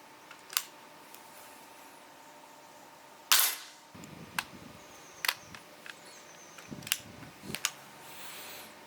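Airsoft gas gun fired in a shooting test: a string of sharp, separate cracks at uneven intervals, each one loud and close, with faint mechanical clicks and handling noise between shots.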